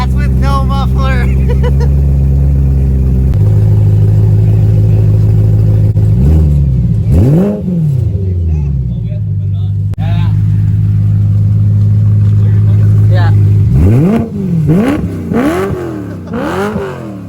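Loud, close BMW E92 M3 running without a muffler: a steady raspy idle broken by several sharp throttle blips that rise and fall, with a cluster of quick revs near the end; people talk over parts of it.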